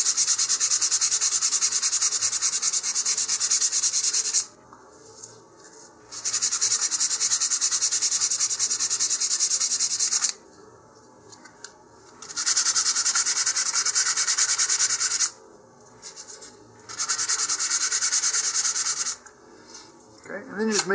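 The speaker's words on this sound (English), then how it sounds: "So I could go to a 220 grit here and just finish sanding that." Sanding a model rocket part with 220-grit sandpaper, close and steady rasping strokes in four long bursts separated by short pauses, with no talking.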